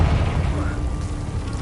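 A Confringo fire spell bursts in Hogwarts Legacy, a deep booming blast that rumbles loudly at the start and then fades into a sustained low roar.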